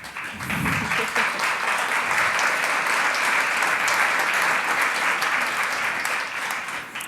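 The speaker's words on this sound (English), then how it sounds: "after this well-earned applause" Sustained audience applause at a re:publica 2023 panel on gender bias in AI, dense and loud clapping that holds steady for several seconds before easing slightly at the close.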